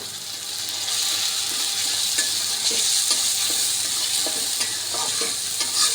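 Salt and chili powder sizzle and fry in a pan for egg korma, with steady loud frying hiss and repeated scraping stir strokes throughout, no talking.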